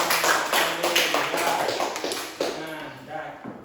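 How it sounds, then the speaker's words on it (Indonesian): Classroom applause for a student who answered correctly, dense claps filling the room in the first seconds and thinning out, with a teacher's voice talking over and after it. "Tepuk tangan untuk sekian"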